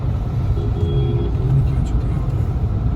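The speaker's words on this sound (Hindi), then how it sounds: "यहाँ पे बहुत ट्रैफिक है।" Busy highway traffic on a road trip in India, a steady broad rumble of passing cars, trucks and buses close by, continuous throughout, with a voice speaking over it.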